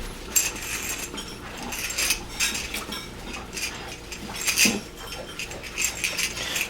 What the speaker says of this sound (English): we're just going to clean this up so that we can use it as a rolling pin. Let's make sure we get it all cleaned up and all soapy